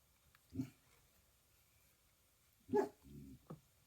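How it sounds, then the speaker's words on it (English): A German Shepherd-type dog barks indoors in a quiet room during a loom-knitting session, with one bark early and a second burst of two or three barks near the end, moderately close. "Sorry about my dog."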